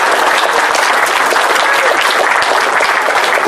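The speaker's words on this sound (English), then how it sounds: "Guys, let's give one more round of applause for Mark." A convention crowd gives a loud, dense round of applause, continuous clapping from many hands held steady throughout.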